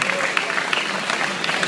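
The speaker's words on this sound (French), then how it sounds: "applaudir bien fort pour l'encourager" Applause from an audience at a graduation ceremony for hairdressing trainees, a steady wash of many hands clapping at moderate volume, continuous and even throughout.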